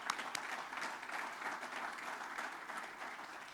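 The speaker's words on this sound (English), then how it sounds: "Let's give a round of applause for that." A crowd applauding steadily, dense clapping that holds for a few seconds from a moderate distance.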